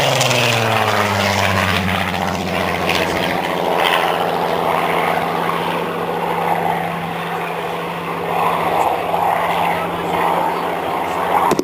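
A Supermarine Spitfire Mk18 roars past overhead with a loud, sustained piston-engine drone whose pitch sweeps downward as it passes, then settles into a steady rumble that lingers at a distance.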